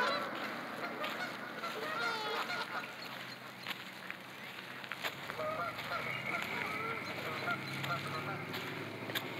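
A nesting mother goose honks repeatedly in a loud, irregular series close by, with some faint background noise and no voices.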